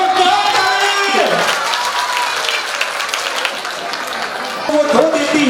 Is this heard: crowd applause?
yes